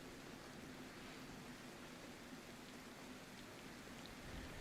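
Steady rain pours down in the survival game DayZ, a dense, even hiss that holds at a constant level throughout with no voices over it.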